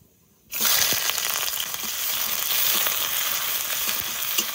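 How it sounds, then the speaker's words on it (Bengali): Chopped onions and cumin seeds drop into hot mustard oil with a sudden loud sizzle after a brief quiet moment, then keep frying in a steady, close hiss. "তো প্রথমে সর্ষের তেল দিয়ে দেবো, অল্প জিরে, কুচানো পেঁয়াজ"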